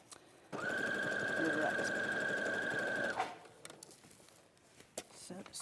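A domestic sewing machine stitches a seam in one continuous whirring run of about two and a half seconds, then stops; a brief word is spoken afterward amid light handling noise.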